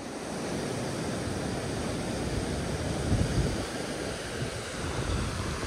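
Water from the Androscoggin River rushes in a continuous broadband wash, with released water flowing strongly and gusts buffeting the microphone.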